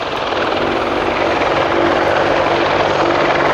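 An Apache attack helicopter at an air show produces a loud, steady roar of rotor and engine noise, constant and close, with no voices over it.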